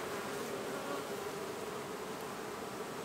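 Honeybees hum in a dense, continuous drone close by as they are shaken from a hive frame during a queen transfer, the buzz holding steady and even with no speech.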